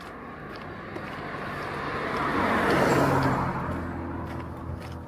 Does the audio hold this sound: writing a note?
no